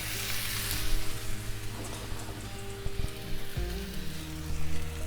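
Birria tacos sizzle on a hot flat top, a loud, steady crackling hiss with bursts of spattering grease and a few soft clicks of a utensil, with no talking.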